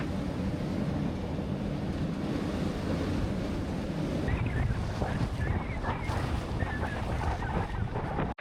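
Strong wind roars steadily and waves rush against the hull of a sailboat running on a reefed mainsail alone, a loud, constant blustery wash with no clear breaks.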